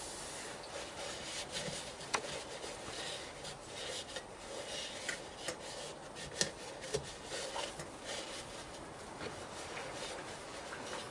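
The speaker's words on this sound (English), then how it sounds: "And some clean tissue, just to wipe off the excess." Clean tissue wipes across the surface of a wooden hollow form turned from a multi-branch log, a soft, steady close rubbing hiss with a few faint taps, no talking.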